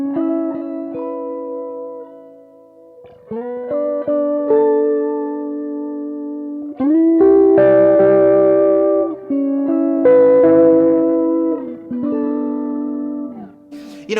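An electric guitar on its neck pickup, tone rolled down, runs through a Kemper with octave effect to mimic an electric piano, playing sustained mellow chords and single notes with clear attacks, up close and alone.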